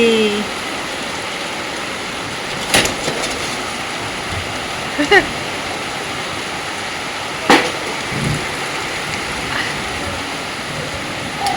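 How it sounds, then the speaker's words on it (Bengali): Heavy rain pouring outdoors during a thunderstorm, a loud steady wash of noise with a few brief knocks. "ধুমা বৃষ্টি এসছে"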